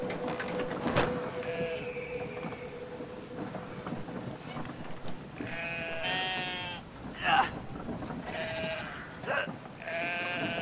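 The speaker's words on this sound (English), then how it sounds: "I have to carry these sheep over?" Sheep in the video game Brothers: A Tale of Two Sons bleat several times in the second half, with harmonic calls rising over a steady game ambience of rumbling weather and rain, plus scattered brief sounds.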